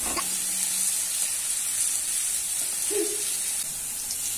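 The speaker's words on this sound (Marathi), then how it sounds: "तेल गरम झाल्यावर सर्वात आधी कांदा, कांदा थोडा परतून घेतल्यानंतर लसूण टाकायचा आहे बारीक केलेला" Chopped onion and garlic frying in hot oil, producing a steady, close sizzle and hiss that runs throughout with no talking and only slight shifts as the pan settles.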